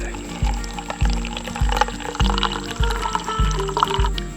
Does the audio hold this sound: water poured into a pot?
yes